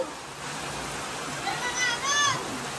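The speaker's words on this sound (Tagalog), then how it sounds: "lakas na pa rin ng ulan" Heavy rain pours in a steady, broadband hiss that fills the whole clip, with faint voices and children's sounds rising briefly in the background.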